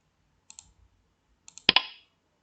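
A couple of quiet mouse clicks come first, then a second pair of clicks triggers a sharp PowerPoint click sound effect with a brief bright ringing tail, set against near silence.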